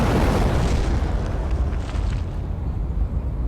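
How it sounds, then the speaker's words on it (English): A deep, rumbling blast from an AI ship exploding in the naval combat game From the Depths, loud and sustained, with heavy low-end roar fading slowly. "Something exploded again."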